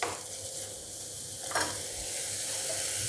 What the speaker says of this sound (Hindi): घी गरम हो चुका है, घी और इसमें डालेंगे चावल। चावल को करेंगे फ्राई।